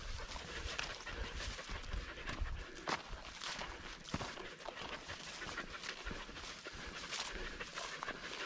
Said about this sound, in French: On entend nos amis les chiens.